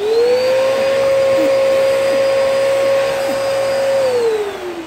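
A vacuum cleaner runs steadily during a suction test, its motor whine holding one high pitch before dropping slightly near the end. The hose is crushed at one corner and suction is minimal. The sound is loud and close, with no talk.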